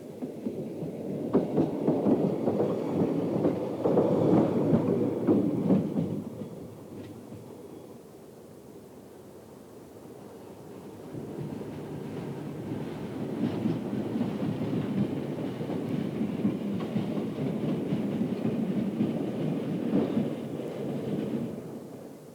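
A bright red Luzern-Stans-Engelberg Railway train runs on a privately owned meter gauge line near Luzern, a deep rumbling roll that fades to a lull midway, then builds again into a steady low rumble.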